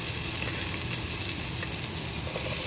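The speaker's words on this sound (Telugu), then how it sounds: "పోపులన్నీ వేగాక ఉల్లిపాయ, పచ్చిమిరపకాయ ముక్కలు వేయాలి." Onion and green chilli pieces fry in oil tempered with spices, giving a loud, continuous close sizzle with no voices over it.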